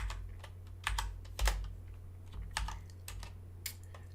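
Someone types code on a computer keyboard in short irregular bursts of crisp key clicks, close and fairly quiet, with a few louder keystrokes standing out. No talk.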